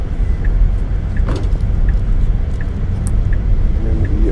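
A Tesla moving slowly on its own under Smart Summon, rolling through a right-hand turn; a low, steady road and motor rumble with faint tyre noise, a few light ticks on top, and no speech.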